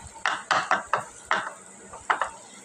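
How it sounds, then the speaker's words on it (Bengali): Small fish with chopped onion, green chilli, ginger, garlic, turmeric, chilli, coriander, cumin paste, salt and oil are mixed by hand in a bowl, giving close, wet squelching pushes in an irregular rhythm of about eight strokes. "এটাকে এখন হাতে মাখাবো"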